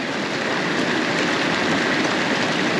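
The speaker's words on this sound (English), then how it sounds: "this is pretty heavy downpour" A heavy rain downpour pours onto an RV in a dense, constant roar of drumming drops, loud and unbroken with no voices.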